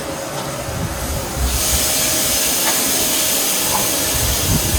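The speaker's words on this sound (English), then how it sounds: "start off with a tablespoon of butter. And then you're going to add in your diced onions" Diced onions sizzle in a tablespoon of melted butter, a steady broadband hiss that swells louder partway through and holds, close and continuous with no talking.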